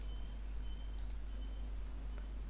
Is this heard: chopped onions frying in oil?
no